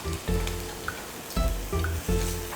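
Chopped onion and paprika stir-fried in oil in a pan for a chive bread filling, giving a steady sizzle with scraping stir strokes that swell in a few distinct bursts.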